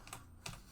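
Keyboard keys struck in two short clusters of clacks over a faint steady background, quick and fairly close, with no voices.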